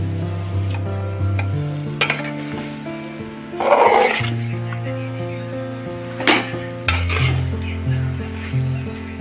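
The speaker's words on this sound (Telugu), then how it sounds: "బోటి బాగా కలుపుకోవాలండి" A spatula stirs and mixes spiced boti (tripe) curry in a pan, with several sharp scraping strokes and clatters against the metal over a low steady hum, close and fairly loud.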